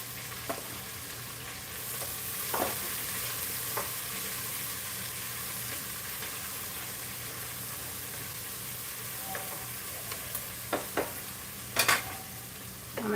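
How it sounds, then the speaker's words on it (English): Chopped vegetables sauteing in a pan on a stovetop for a vegan southwest soup, a soft steady sizzle with occasional stirring clinks and scrapes, louder utensil taps near the end. "And we're going to dump all these veggies in. And start sauteing them."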